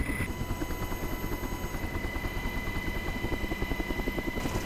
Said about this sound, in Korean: 드디어 강화 지점에 멈춰선 헬기.